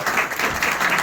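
An audience at a Urdu poetry gathering (mushaira) breaks into steady applause, a dense continuous wash of many hands clapping close by, with no voices on top.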